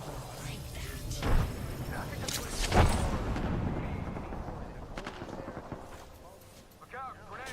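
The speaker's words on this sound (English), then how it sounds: "Gunfire." Gunfire in a video game shooter, with heavy, booming blasts rolling through a dense, continuous battle din; two louder bursts stand out early before the barrage gradually eases.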